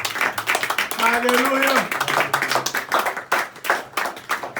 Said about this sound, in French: Donnons une acclamation.